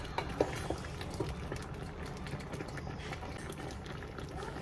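Ogbono soup bubbling as it cooks in a pot, a steady close simmering crackle and blip of thick liquid with a few sharper pops, no voices.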